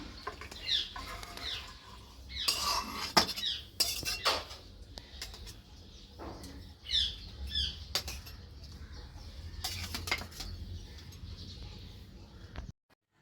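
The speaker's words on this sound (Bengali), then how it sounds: "এবার মাংসটা ঢেলে নেব গামলায়।" Cooked chicken is tipped from a pot into a serving bowl, with several sharp metal scrapes and clinks of a spoon against the pot in uneven bursts over a low kitchen background.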